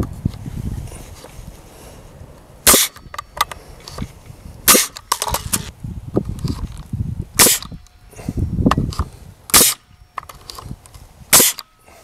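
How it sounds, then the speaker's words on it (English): Hammer blows nailing wooden fence stringers on a 130-foot wooden fence build: about half a dozen sharp, loud cracks, spaced irregularly, over a low outdoor rumble. "And then you go ahead and finish nailing it."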